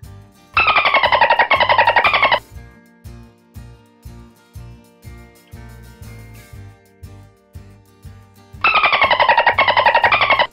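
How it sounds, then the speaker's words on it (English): Dolphin calls in a toddler animal-guessing game: bursts of rapid, high whistling clicks open and close the clip, with a rhythmic background music beat playing between them. "Dolphin."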